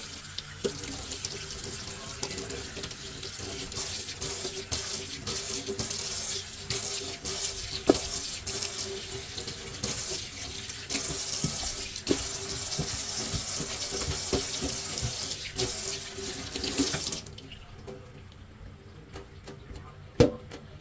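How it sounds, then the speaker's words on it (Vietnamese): Tap water pours steadily into a kitchen sink to flush rice scraps down the drain, a close, continuous splashing rush that runs for about seventeen seconds before the faucet shuts off, leaving faint drips and quiet. "bây giờ mình sẽ xả nước để cho cơm nó trôi xuống ha"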